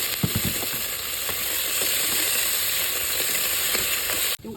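Ginger and kalampay fry in olive oil in a pan, giving a loud, steady sizzle with faint stirring scrapes throughout, ending in a sudden drop as the pan noise shifts.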